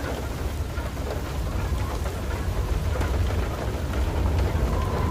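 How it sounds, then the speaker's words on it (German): Heavy hailstorm in the video game FAR: Lone Sails, a dense, steady roar of pelting ice with scattered sharper impacts and a low rumbling bed, loud and continuous throughout with no talking. "Hagelkörner so groß wie ich selber bald"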